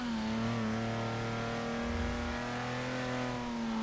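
A classic road-racing sports car engine in Forza Motorsport 6 revs loud and steady, its tone holding and briefly shifting lower before climbing again.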